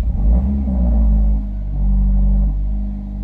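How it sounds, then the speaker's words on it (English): A car engine cold-starts close by, giving a loud, deep rumble that swells, dips briefly, then rises again to a steady rough idle with no talking. "It's cold start this beast."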